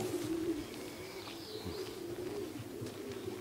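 Racing pigeons back in the loft after a race flight from Strasbourg, cooing in low, repeated throaty calls, fairly close, with faint chirps and background rustle.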